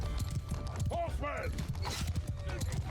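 Cavalry horses in the video game Mount & Blade II: Bannerlord thunder past with dense galloping hoofbeats and a whinny, under a talking voice.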